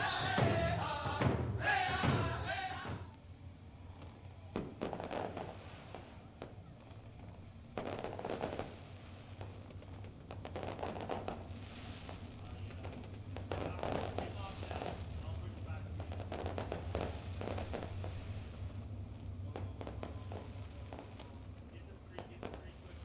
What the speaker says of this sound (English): Give a shout out to Lone Wolf Fireworks lighting up the sky here.